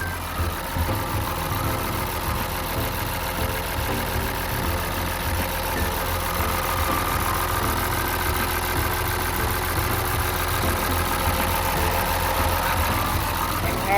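A Hitachi ZW310-A wheel loader's Mercedes-Benz turbo diesel engine idles steadily nearby, a constant low rumble with a pulsing throb and no talking, holding even for about fourteen seconds.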